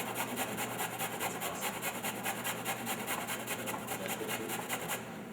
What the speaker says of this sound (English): run your ginger right down the grate